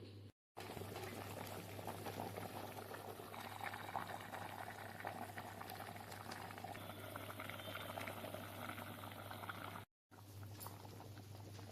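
Telugu-style fish curry simmering in a pot after the spices go in: a faint, even bubbling and soft pattering that runs throughout, quiet and unbroken apart from two brief dropouts.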